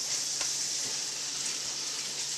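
Vegetables sizzle steadily in a hot pan, a continuous hissing crackle with no voices.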